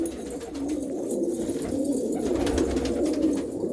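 Pigeons coo in filled coops in a rural Punjab village, a close chorus of low, rolling, overlapping coos over steady background hiss, with no speech.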